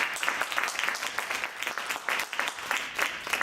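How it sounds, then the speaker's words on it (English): Lecture audience applauding the speakers, a sustained round of dense, moderately loud clapping with no voices over it. "how about a round of applause for these guys?"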